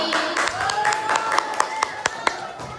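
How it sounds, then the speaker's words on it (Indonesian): Students clap in applause for a group after a classroom role-play, a run of sharp, uneven claps ringing out over a room with faint background voices. "Beri tepuk tangan untuk kelompok"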